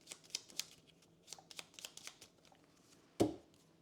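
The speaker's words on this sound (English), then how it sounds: "We'll shuffle these bad boys." Playing cards for the Aeon Trespass Odyssey board game shuffled by hand, a close run of soft riffling flicks and taps ending in one sharper knock as the deck is squared, with no speech over it.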